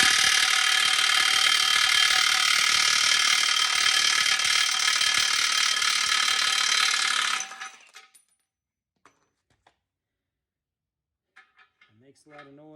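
A Milwaukee power tool cranks a control arm nut off a first-generation Nissan Xterra with a loud, continuous rattling buzz for about seven seconds. It then stops abruptly, leaving near silence and a few faint clicks before a voice begins.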